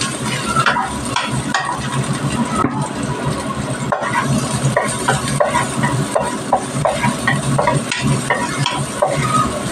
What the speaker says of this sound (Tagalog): tapaglo po natin yung ating onions. Gusto ko po guys maraming onions, maraming garlic.